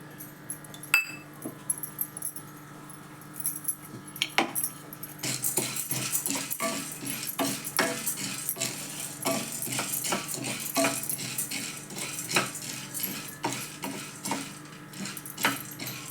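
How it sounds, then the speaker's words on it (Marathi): Lentils being dry-roasted in ghee in a pan for modak, with a spoon scraping and clinking against the metal in irregular, close taps over a low background hum. "ही डाळ आधी भाजून घेऊ थोडीशी तुपात थोडी गरम करायची जास्त भाजायची नाही"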